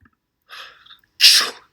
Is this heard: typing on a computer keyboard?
no